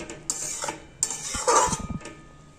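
A lid is set onto a pan of prawns and eggplant korma: a couple of sharp metallic clanks, then a brief rattling clatter as it settles, with a faint sizzle beneath.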